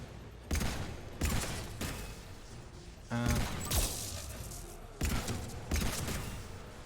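Gunfire from a weapon in the video game Mass Effect, played as an Engineer on Insanity difficulty, comes in several sharp, loud bursts of rapid shots separated by short pauses, close up.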